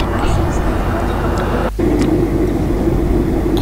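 Steady loud cabin roar inside an airliner in flight from Naha to Miyakojima, a constant broadband engine and air rush with a brief dip near the middle before the drone resumes.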